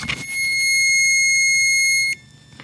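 A multimeter continuity tester on a wire in a 7.3 Powerstroke truck gives one steady high-pitched beep lasting about two seconds, close and clear, then stops with a faint click.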